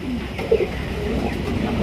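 A pigeon gives one low, soft coo close by against a background murmur.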